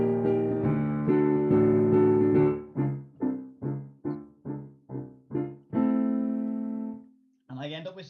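Eerie piano-like notes play alone: a few sustained chords, then a run of short, evenly spaced plucked notes, ending on a long held tone.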